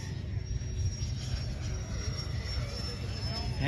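An electric ducted fan model jet, an AL-37, flies at a model aviation competition in challenging wind, giving a steady, loud whooshing whine that holds level throughout under light crowd noise.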